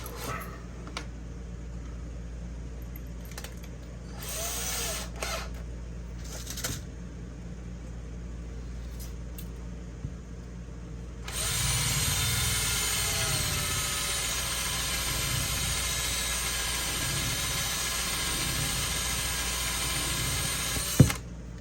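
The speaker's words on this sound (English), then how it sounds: "Need to drill that just a little bit." A power drill starts midway and whirs steadily for about ten seconds at close range, drilling into an HP 15-eg3278nr laptop hinge, preceded by quiet scraping and handling noises.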